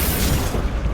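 A Bombarda spell explosion in the video game Hogwarts Legacy bursts as one short, loud, booming blast, with a crackling mechanical rattle inside it.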